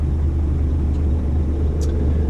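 A dump truck pulling a trailer drives through Gothenburg, Sweden, with a steady, loud low engine drone and road rumble heard from inside the cab.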